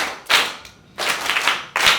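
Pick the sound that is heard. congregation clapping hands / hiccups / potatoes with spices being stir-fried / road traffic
congregation clapping hands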